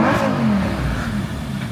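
Lamborghini engine revving hard close by, a loud continuous roar with a rising then settling pitch lasting under two seconds, no talk over it.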